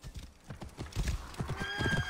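In Assassin's Creed Origins, a horse's hooves clop rapidly on the ground while the horse lets out a whinny near the end, close and clear in the game world.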